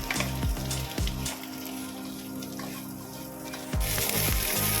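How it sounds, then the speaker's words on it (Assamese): Capsicum and onion fry on a high flame for a chilli chicken dish, a loud continuous sizzle broken by a few sharp clatters of stirring, with no talking. "এতিয়া তাতে কেপচিকাম আৰু পিঁয়াজখিনি হাই ফ্লেমত"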